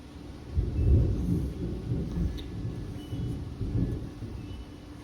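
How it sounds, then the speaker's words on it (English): Low thunder rolls steadily in the background, a deep continuous rumble with a stronger swell near the start and softer waves afterward, with no voices over it. "Sorry for the thunder in the background."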